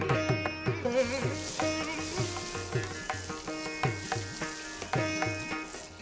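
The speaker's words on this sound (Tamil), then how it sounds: "இப்பொழுது தூய்மை செய்து எடுத்துக்கொண்ட தூதுவளை இலைகளை நாம் சேர்த்து வதக்க வேண்டும்." Thuthuvalai leaves are sautéed in hot sesame oil with cumin and asafoetida, giving a moderate sizzle with rhythmic stirring scrapes over a musical backdrop.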